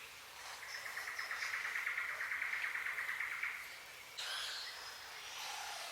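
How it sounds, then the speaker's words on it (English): Wild birds feeding among fruiting Piccabeen palms in Australian rainforest, giving a steady run of rapid, high chirping trills for several seconds, then a sharper burst of bright calls near the end, moderately close over quiet forest ambience. "Have a look and listen to some of these birds."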